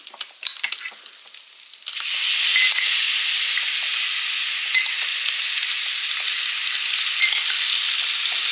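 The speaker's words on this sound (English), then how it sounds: "We're going to add some salsa in." Salsa poured onto heated leftover beef brisket in a hot pan breaks into a loud, steady sizzle that swells after a brief quiet start and holds evenly close up, with no talking.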